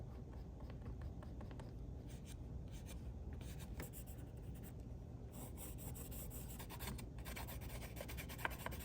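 Faint, close scratchy rubbing of Neocolor wax pastels drawn over oil pastel on sketchbook paper, continuous gritty strokes with short scraping bursts and no voices.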